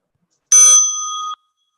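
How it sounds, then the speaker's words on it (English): A single meditation bell is struck once, loud and close, and its bright ringing tone holds briefly before it stops cleanly, alone with no talking. "As you listen to the bell,"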